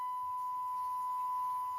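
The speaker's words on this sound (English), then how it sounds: "The random beep." A steady electronic beep tone holds at one pitch for nearly two seconds over faint background hiss, heard during a broadcast of WWF SmackDown from June 29, 2000.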